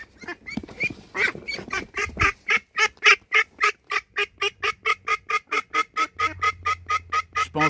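Young female duck giving a long, steady series of loud, evenly spaced quacks, about twenty in rapid rhythm, close and clear with no voices.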